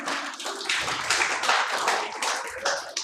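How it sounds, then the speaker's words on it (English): An audience at a storytelling competition during a literature festival claps continuously, a dense and fairly steady patter of many hands with no talk. "सभी को ताली बजानी है।"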